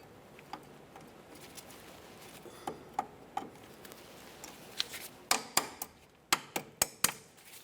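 A hammer striking a punch against a sway bar link on a 2004–2006 Scion xB, sharp metallic taps that start sparse and quiet, then come faster and louder in a cluster of about a dozen hits near the end.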